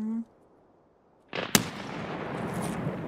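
A single sharp gunshot cracks in the Escape from Tarkov video game, loud and close, preceded by a short tone and followed by a lingering rustling, noisy ambience.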